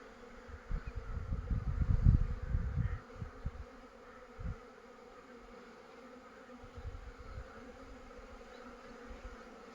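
Honeybees buzzing around hives split into two or three frames each, a low steady drone that swells loudly near two seconds, then settles into a fainter hum with scattered closer passes.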